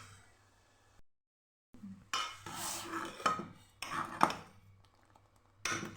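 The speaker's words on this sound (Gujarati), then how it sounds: "ચમચાથી આપણે હલાવતા રહીશું" A spoon stirs and scrapes inside a pot of tea boiling with ginger, tulsi and cardamom, giving several close metallic clinks and scrapes between quiet pauses.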